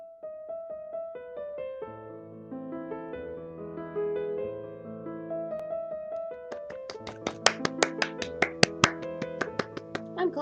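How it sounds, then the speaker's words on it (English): One person claps their hands, giving a run of sharp, close, evenly spaced claps that grows denser over steady background music, with no talking. "I'm clapping to myself."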